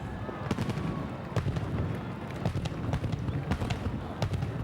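Fireworks bursting over a lake during a July 4th celebration in 1993, a steady run of sharp booms and crackles at varied distances over a constant crowd murmur, with occasional voices nearby.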